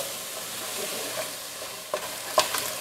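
A roux is stirred continuously in a pan for a chicken pot pie, giving a soft, steady sizzle with faint scraping and a few light clinks of the utensil against the pan, close and quiet.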